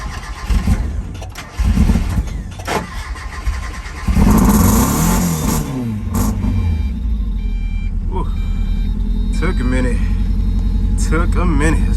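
A Mazda Miata cranks and catches after a few rough turns, then settles into a steady idle broken by several rising revs, close by, with some voices early on.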